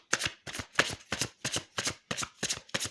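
Tarot cards shuffled by hand for a reading, a brisk riffling repeated in about nine even bursts with short pauses between, close and fairly soft, with no talking.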